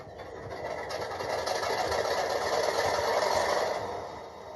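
Modeled MK5000C locomotive engine from a model train sound decoder drones with a steady, rumbling hum that swells slightly in the middle, played alone at moderate volume without voices.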